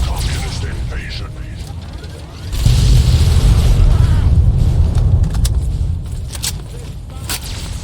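Gunfire and explosions in the video game Fallout 3 pop and boom amid a rumbling battle, with sharp cracks near the end under shouting voices.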